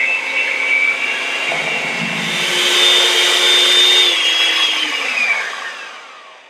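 A small electric hand mixer whirs steadily as it blends egg yolks with sweetened condensed milk for a key lime pie filling, a continuous motor whine that rises slightly in pitch midway and then tapers off.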